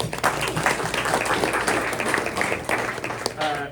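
A room of attendees at a press luncheon gives a round of applause, a dense, steady patter of clapping mixed with low murmuring voices.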